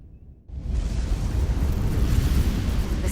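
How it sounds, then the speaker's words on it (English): Storm rumble in the video game Star Trek: Resurgence swells in after a quiet moment into a deep, continuous roaring wash that holds loud to the end. "The storm is getting worse."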